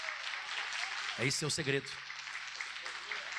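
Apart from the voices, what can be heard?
applause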